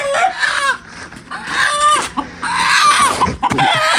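A rooster clucks and crows loudly up close in several drawn-out calls with short gaps between them.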